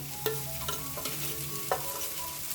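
Turmeric-spiced masala frying in hot oil for a brinjal dish, a steady close sizzle broken by a few sharp spoon-and-pan stirring clinks, with no voices.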